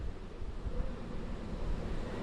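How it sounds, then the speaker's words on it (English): A strong wind gust buffets the microphone outdoors as Hurricane Harvey makes landfall on the Texas coast in August 2017, a steady loud roar with low rumbling swells throughout. "now we just got a strong gust"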